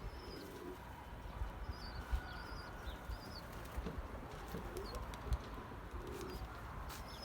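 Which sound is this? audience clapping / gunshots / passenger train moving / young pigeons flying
young pigeons flying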